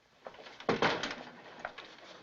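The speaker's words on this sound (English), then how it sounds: "Mama, where you reckon Charlie got that bird?" A pigeon or dove gives a soft, low coo, with a few quiet murmuring notes in a calm indoor setting at night. No one speaks.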